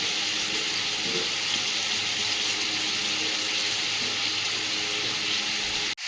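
Vegetables sautéing in a pan with salt, turmeric and spices, a steady close hiss and sizzle that runs unbroken and then cuts off abruptly at the end.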